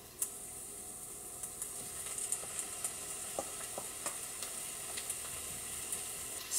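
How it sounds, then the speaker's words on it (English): Jackfruit sizzles in a frying pan for vegan barbecue pulled jackfruit, a steady soft hiss with scattered faint clicks and scrapes of stirring, quiet and continuous throughout. "And now I'm going to add the jackfruit."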